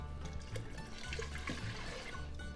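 Chicken broth poured into an Instant Pot for shrimp risotto, a faint, steady splashing pour of liquid lasting a couple of seconds.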